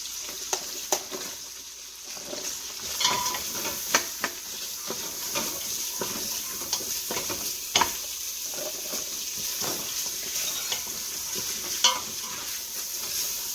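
Onions sizzle softly in an Instant Pot while a wooden spoon stirs them, giving scattered close knocks and scrapes over a low, steady frying hiss with no talk.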